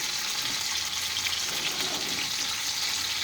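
Lean pork chops frying in a pan on medium heat, an even, steady sizzle with a slight bubbling texture throughout, close and moderately loud, no voices.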